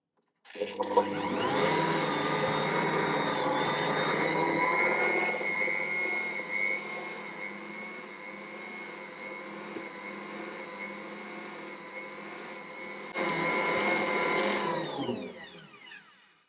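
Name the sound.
Ankarsrum mixer kneading bread dough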